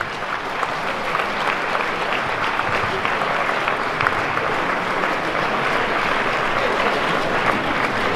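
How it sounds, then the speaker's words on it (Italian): Sustained audience applause at an evening folk and tavern choir festival in Bobbio, a dense steady patter of many hands clapping at even loudness throughout, with no voices standing out. "Fategli un bel applauso."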